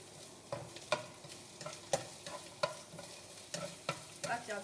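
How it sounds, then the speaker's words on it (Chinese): Scallions, onion and curry stir-fried in a wok give a soft sizzle punctuated by rhythmic spatula strikes and scrapes roughly every half second, close and fairly quiet, with no talking. "先把那个葱、onion 还有咖喱先爆香先"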